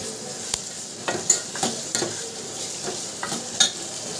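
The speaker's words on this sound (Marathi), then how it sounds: "छान असं परतून घेऊ" Sprouted moth bean curry being sautéed in a pan sizzles steadily up close while a spoon stirs and scrapes, giving several sharp clinks and scrapes against the metal over the frying hiss.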